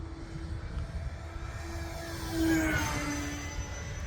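Steady drone of a Beechcraft D18 twin-engine airplane in flight at moderate power, a continuous hum that swells briefly as it passes, faint and distant.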